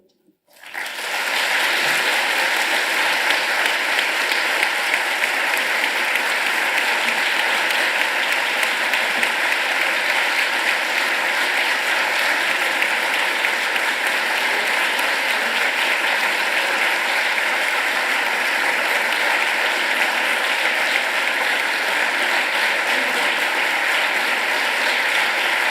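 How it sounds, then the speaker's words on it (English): A conference audience at an academic session on inequalities breaks into loud, sustained applause right after a speaker finishes, the dense clapping holding steady for the full stretch without talk over it. "Again, so much applause and appreciation."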